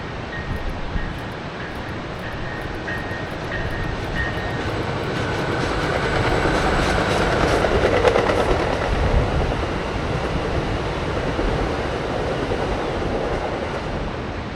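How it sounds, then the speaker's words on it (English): A southbound Amtrak Pacific Surfliner passenger train rolls past along the beach, a steady broad rumble that swells toward the middle and holds, with faint rail clatter and no talk. "a southbound Pacific Surfliner."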